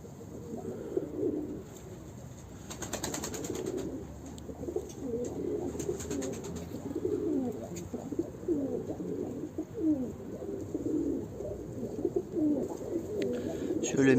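Pigeons kept in a breeding coop coo and murmur in a steady, overlapping chorus nearby, with soft rustling throughout.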